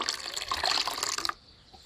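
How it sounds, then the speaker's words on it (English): Water poured from a container onto fertilised catfish eggs, a close, steady splashing pour lasting just over a second before cutting off to quiet. "So we're now going to pour the water"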